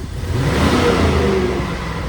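A 2000-2006 Chevrolet Tahoe engine with a power-loss fault revs up under throttle, swelling quickly to a strained peak, then sagging and fading back down, close and fairly loud.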